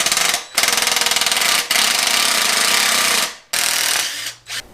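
A power tool, likely an impact wrench, removes the two skid plate bolts from a Honda MT250 motorcycle frame during restoration, giving loud, close rattling bursts in several runs separated by short pauses.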